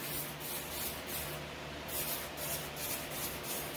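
Short bursts of hissing aerosol hairspray sprayed onto a model car body repeat in quick succession, soft and close, with a low steady hum in the background.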